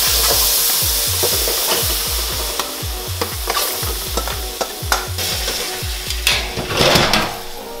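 Carrots char in a very hot pan with a loud, steady sizzle, while rhythmic scraping and stirring scrapes repeat close by throughout.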